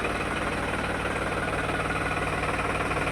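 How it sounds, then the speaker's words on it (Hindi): A New Holland 3630 tractor engine idles steadily at a tyre service shop, a continuous loud diesel rumble with a faint knocking pulse and no talking. "ये ट्रैक्टर न्यू हॉलैंड 3630।"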